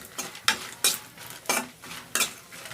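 Dried red chillies and seeds are fried and stirred in a pan for Nellore-style roti pachadi, with sharp scraping strokes repeating about every third of a second over a faint sizzle.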